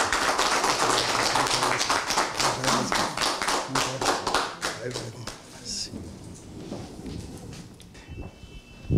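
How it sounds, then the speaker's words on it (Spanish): An audience at an award ceremony in Lima, honoring an engineer with a diploma of merit, bursts into dense, close applause that gradually thins and fades out after about five seconds. "Un aplauso."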